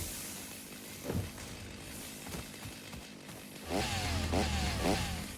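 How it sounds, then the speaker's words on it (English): A chainsaw in the video game Satisfactory revs in rough, buzzing bursts that rise and fall, growing louder in the second half over a steady noisy game background. "Maybe I can take a chainsaw to its legs"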